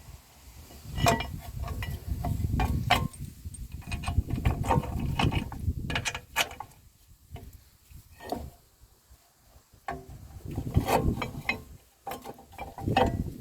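Ratchet wrench work while installing a brake caliper on a 2010 Toyota Corolla 1.8 during a rear drum-to-disc brake conversion: close bursts of rapid metallic clicking with brief pauses and some clunks of metal parts, no voices.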